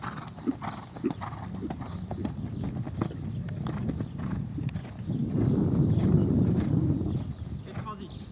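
Hooves of a horse ridden toward a jump clip-clop in a steady, rhythmic gait, close and clear, with a voice faintly present in the background.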